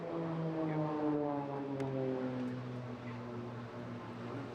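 An aerobatic display aircraft dives at high speed over the Bournemouth Air Festival, a steady droning engine and propeller tone with a slowly falling pitch, loud and continuous, no voices over it.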